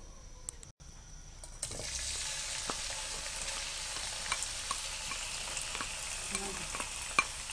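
Chicken fries in four tablespoons of oil in a saucepan, with a steady close sizzle that swells after a brief quiet start and occasional sharp stirring clicks.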